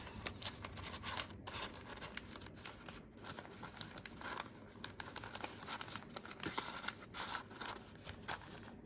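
Paper being folded into an origami cube gives soft, close crinkling and rustling with occasional sharper crisp creases and taps, intermittent and quiet, with no talk.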